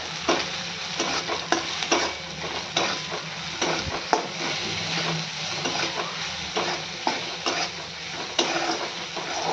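Onions frying in a pan as turmeric, salt and chili powder are stirred in, a constant loud sizzle with repeated scraping strokes of a spoon against the pan.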